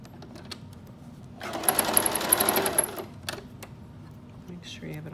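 A sewing machine runs in a quick, even burst of stitching for roughly a second and a half while sewing pleats into a fabric face mask, with quiet handling sounds before and after.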